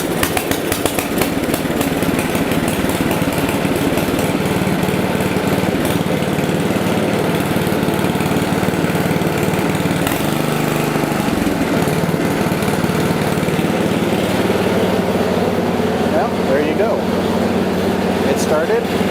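Ariens Deluxe ST24LE 24-inch two-stage snow blower engine started for the first time at half throttle, running steadily and loudly up close for the whole stretch with a slight dip midway, a voice faintly under it.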